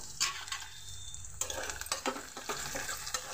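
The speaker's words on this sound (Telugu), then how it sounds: "ఇవి లైట్గా దోరగా ఫ్రై అయితే సరిపోతాయి" Four garlic cloves and a little tamarind fry in a pan with a close, steady sizzle and crackle, broken by a few scraping stirs and light clicks.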